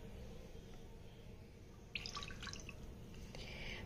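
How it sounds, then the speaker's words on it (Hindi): Water poured into a pan to boil corn, a soft splashing trickle beginning midway, over a steady low background hum; faint and close. "पैन में 1 कप पानी डालेंगे।"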